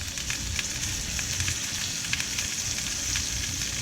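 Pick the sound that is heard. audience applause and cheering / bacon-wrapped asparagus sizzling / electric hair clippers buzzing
bacon-wrapped asparagus sizzling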